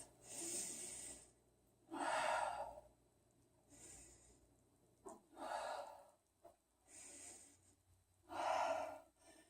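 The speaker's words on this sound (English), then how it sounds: "2 more nice deep breaths" Deep, slow breathing during a yoga pose, with audible inhales and exhales alternating in a steady rhythm, close to the microphone.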